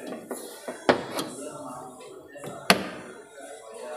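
A Daihatsu Rocky 2021 compact SUV door slams shut with a sharp, loud thud, the loudest of several bangs and knocks nearby, with a person talking faintly in the background.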